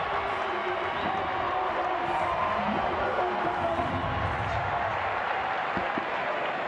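A packed cricket stadium crowd at an SA T20 match applauding and cheering, a broad, steady roar of clapping and voices that holds loud throughout, with a commentator's voice over it.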